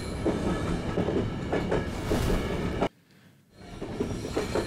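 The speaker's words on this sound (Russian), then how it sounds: "А я еду на поезде и ложусь спать." In the video game Zompiercer, a train rolls along the rails with a loud continuous rumble and rhythmic clatter, cut by a sudden brief drop to near silence before the running noise swells back.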